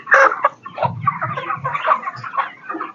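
Broiler chickens on a 5,000-bird poultry farm cluck continuously and close by, many birds overlapping in a busy, uneven chorus with no talk.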